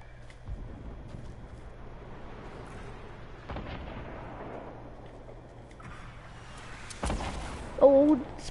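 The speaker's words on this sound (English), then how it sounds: "Are you getting shot at with rockets? No, I'm shooting at with rockets." Rockets firing and exploding in the video game Fortnite, with a few sharp booming blasts between stretches of quieter game sound, the loudest bursts near the end, and a voice speaking over the action.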